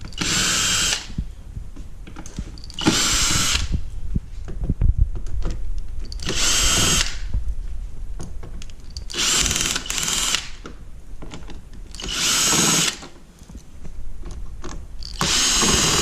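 Power drill backing out ten T15 Torx screws along the top of a C7 Corvette during a spoiler install, heard as a run of short, loud whirring bursts separated by pauses with small handling clatter between them.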